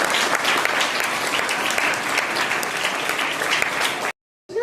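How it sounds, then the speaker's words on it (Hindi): Loud, dense applause from a school assembly audience greeting a student who is about to recite a poem for teachers, steady throughout before cutting off abruptly near the end. "उनका जोरदार तालियों से स्वागत कीजिए"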